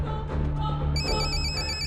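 A telephone rings in a Hindi comedy scene as a call is placed, a steady repeating electronic ring tone that starts partway through and continues loud and close over a low background hum.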